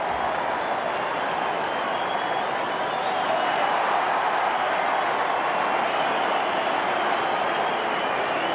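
A stadium crowd at an AFL elimination final between Carlton and Adelaide roars after an Adelaide goal, a dense, sustained wall of cheering and applause that swells slightly midway and holds steady throughout.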